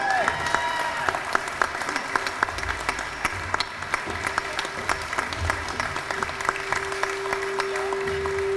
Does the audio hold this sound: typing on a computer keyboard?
no